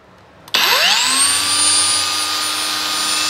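A cordless 4-inch NRT PRO TG 99DC heavy-duty 20 V angle grinder switches on at its first speed, spooling up with a rising whine in a split second and then holding a loud, steady high-pitched drone.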